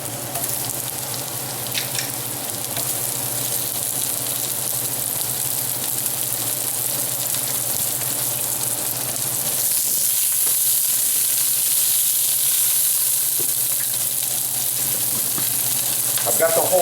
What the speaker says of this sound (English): Next step, onions go in.